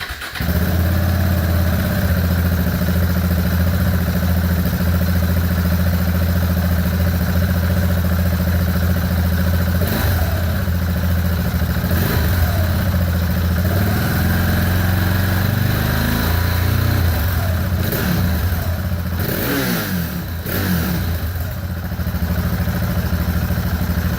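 KTM 690 Duke motorcycle, decatted and fitted with an Ixil Hexoval Xtreme Evolution exhaust using the smallest baffle, starts and idles loudly with a deep throbbing exhaust beat and several sharp throttle blips near the end.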